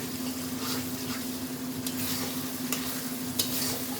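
Spice masala for goat mutton sautéing in a pan, a continuous close sizzle with a low steady hum beneath and occasional stirring clicks, no voices.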